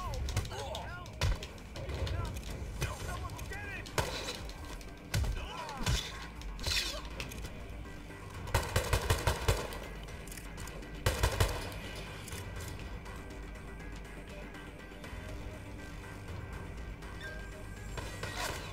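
Gunshots ring out in the Hitman video game, scattered sharp bursts and a few rapid volleys amid game ambience and intermittent talk.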